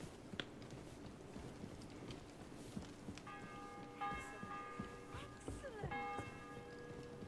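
A church bell tolls inside the video game Kingdom Come Deliverance 2. It rings as repeated tones that start about halfway through and carry on over a bed of faint background noise.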